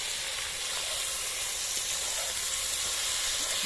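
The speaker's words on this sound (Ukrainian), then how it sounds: "просто на суху сковородку чи сухий казан кидайте просто курку" Steady broadband sizzling and hiss of chicken frying in a hot dry cauldron, continuous and fairly loud throughout, with no talking.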